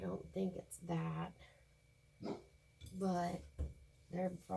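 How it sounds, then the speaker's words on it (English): Dogs bark indoors a few times in short bursts, close by and mixed in with a person talking. "Sorry you hear my dogs."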